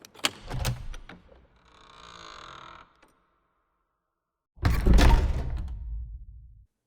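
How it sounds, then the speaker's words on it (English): Heavy old castle door layered sound effect: a creaking open with knocks, a brief lull, then a loud hard slam with a rumbling tail, alone with no voices. "So the basic layer, we have the castle door open and close and the close hard layers here"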